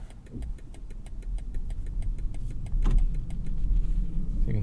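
The turn signal of a 2021 BMW X5 45e ticks rapidly inside the cabin because a bulb is out, giving an even run of sharp clicks that occasionally skip, over a low engine and road hum.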